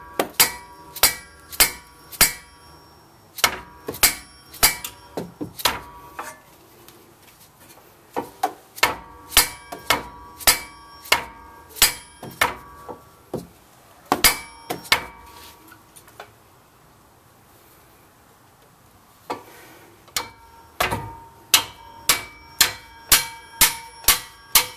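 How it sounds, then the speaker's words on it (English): Mallet or dead blow hammer repeatedly striking rear brake parts on a 2004 Volvo XC90, loud close metallic clanks in quick bursts of several blows separated by short pauses, with no talking. "So, trusty mallet, or dead blow, whatever you want to call it."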